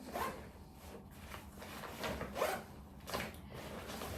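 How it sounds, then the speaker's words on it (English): A zipper is pulled along the inside pocket of a Decathlon travel backpack in several short, rasping strokes, close and fairly quiet, with no talking. "And it has a pocket inside it, and let me zip it."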